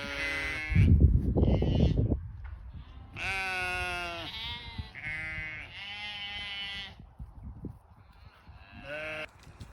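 A flock of sheep bleats repeatedly as they come up expecting food on a farm, several loud overlapping calls near and far, with brief rustling and a scuffling thump early on.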